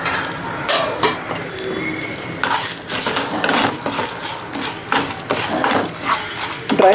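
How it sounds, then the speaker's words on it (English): Urad dal dry roasting in a pan for til rice, with a metal spoon clinking and scraping as the lentils are stirred, giving a light continuous rustle and faint sizzle up close. "Dry roast this till the urad dal become brown in color"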